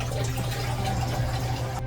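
Two cups of cold water poured into a mixture for making grog, giving a steady splashing, gurgling pour heard up close for a couple of seconds.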